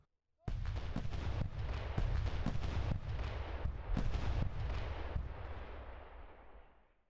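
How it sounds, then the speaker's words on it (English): Continuous artillery bombardment on trenches in a 1917 battle setting, a dense run of heavy booming blasts in quick succession, loud and rumbling, fading out at the end. "the 20th Corps artillery starts firing a continuous bombardment on the western Turkish trenches"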